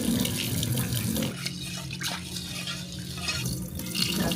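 Tap water runs into a bowl of rice as it is rinsed, a steady close splashing and pouring that dips briefly mid-way and swells again, with no talk.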